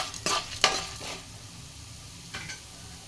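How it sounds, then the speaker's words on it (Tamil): Ingredients fried in a pan stirred with a utensil, giving a few brief scraping strokes over a soft, steady sizzle, with quiet pauses between the stirs. "லைட்டாக கொஞ்சம் கிளறி விடலாம்."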